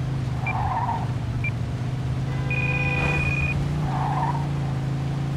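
Car tires squeal in the Mafia 2 video game, a sustained skidding screech over a steady engine drone, with a few brief chirps and a longer high squeal midway, no talking.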